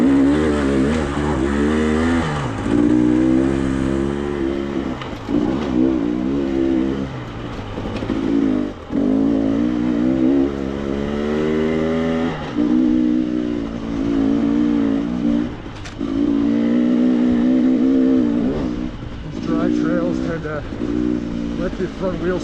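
An enduro motorcycle engine revs and surges up and down in repeated bursts while riding a rocky gravel trail, loud and close throughout, with a voice talking over it at times.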